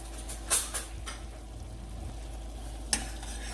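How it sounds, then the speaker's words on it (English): A spoon stirs grits into salted boiling water in a pan, a soft bubbling simmer under a few sharp scraping clicks against the pan, no talking. "I'm going to slowly add in some grits to this pan and stir as I go"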